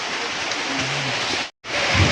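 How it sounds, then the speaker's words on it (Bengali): Rain falls steadily, making an even, dense hiss with a very brief cutout near the end before the downpour resumes. "এরকম বৃষ্টি হচ্ছে"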